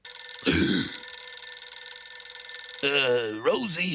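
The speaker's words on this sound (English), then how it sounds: "Just can't stand the sound of a phone ringing." Cartoon telephone bell ringing in a noir-style city office, a short burst of ringing followed by a steady electronic tone, with a voice speaking over the end.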